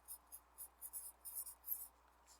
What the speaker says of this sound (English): I'm going to write it right here.